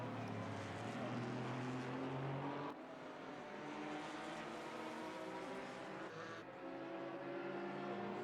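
GT4 race cars in Assetto Corsa Competizione, one passing a Porsche, engines droning loudly with shifting pitch as the cars sweep by and pull away, cutting sharply at two points.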